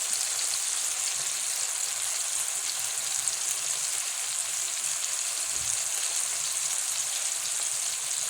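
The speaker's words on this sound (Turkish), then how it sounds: "Her tarafa eşit şekilde kızarsınlar." Onions fry in a pan, a steady close sizzle and crackle that holds evenly from start to finish, with no voices over it.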